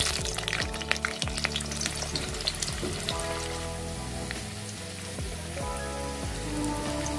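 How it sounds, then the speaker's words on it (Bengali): Large-cut potato pieces fry in hot oil for a Kashmiri cabbage dish, giving a steady, dense rain-like sizzle that stays even throughout, close and unbroken with no voices. "তাই তেল গরম হয়ে গেছে, এবারে আমি আলুগুলো ভেজে নেব।"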